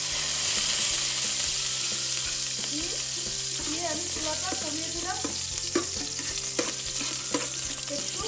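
Whole spices such as bay leaf, cinnamon, green and black cardamom and shahi jeera fry in oil over lowered heat for chicken tehari, a steady sizzle with stirring clicks while someone talks over it.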